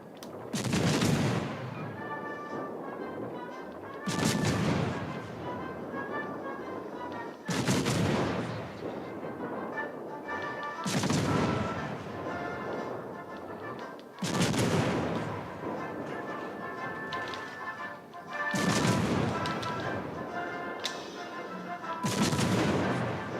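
Warship turret salvos in the naval battle game World of Warships: Legends, heavy booming volleys repeating roughly every three to four seconds, each decaying into a rumble, loud and close.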